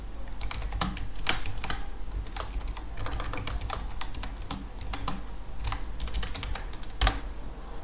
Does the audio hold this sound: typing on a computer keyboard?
yes